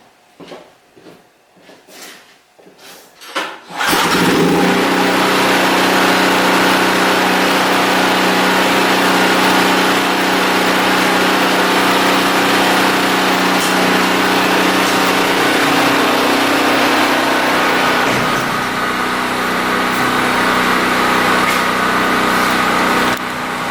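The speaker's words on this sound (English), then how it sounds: "So the generator is running" A Generac standby generator engine starts after a few seconds of quiet handling noises, then runs at a loud, steady drone that holds throughout with no talking.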